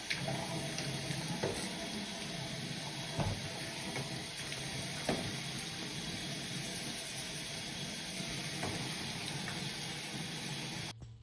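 Warm tap water runs steadily from a faucet into a sink while doll hair is washed, a continuous close hiss and splash with occasional small knocks, no voices.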